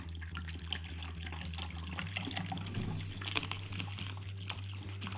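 A drink poured at a lochside bird hide, a soft continuous trickle of liquid splashing into a cup over a low steady hum, quiet and close, with no talk.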